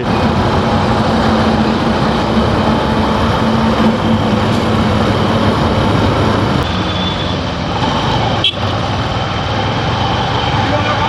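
A loud, continuous rumble of a train rolling along, with voices talking faintly underneath.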